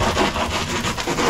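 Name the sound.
sawing through cardboard layers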